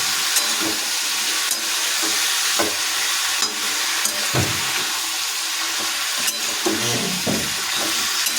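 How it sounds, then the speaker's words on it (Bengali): Potatoes and onions fry in a pan, giving a constant loud sizzling hiss, while a utensil stirs them and adds occasional scraping clatters and knocks. "আলু আর পেঁয়াজগুলো যোগ করার পর 3 মিনিট ধরে আমরা ভালোভাবে নাড়িয়ে নিচ্ছি"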